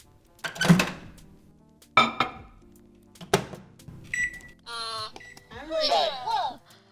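Microwave oven played back in a classroom sound quiz: a few sharp clatters and a door-like knock, then a short run of rapid electronic beeps, followed by a voice.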